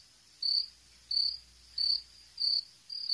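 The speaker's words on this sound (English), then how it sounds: "Crickets chirping." A cricket chirps in five evenly spaced, high trilling bursts against a quiet, still background, close and clear with no voices.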